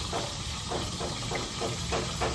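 Food fries in a pan with a continuous crackling sizzle, steady and close throughout.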